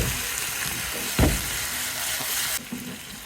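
Steamed muthiya dumplings frying in a sesame tempering with a little sugar and water give a continuous close sizzle, with a sharp crackling burst partway through.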